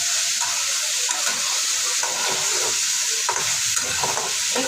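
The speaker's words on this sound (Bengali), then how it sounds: "একটু ভেজে নিয়ে আমি মশলাটা দিয়ে কষিয়ে দিই" Soaked spice paste fries with vegetables in a hot pan, a loud steady sizzle under continuous stirring and scraping, close up with no voices.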